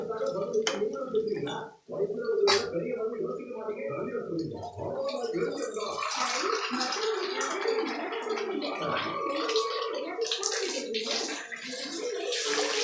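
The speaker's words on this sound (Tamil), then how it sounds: "இந்த ஸ்டேஜில் நம்ம தண்ணி விட்டுக்கலாம்" Water poured into a pan of sautéed upma mixture makes a steady splashing, bubbling rush with gurgling spurts. It carries on for several seconds, close and fairly loud, with a brief dip early on.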